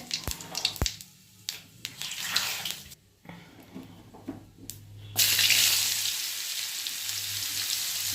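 Whole cumin seeds hit hot oil for tempering a ridge gourd and pumpkin dish, bursting into a loud, steady hissing sizzle after a few scattered kitchen clatters and quieter moments.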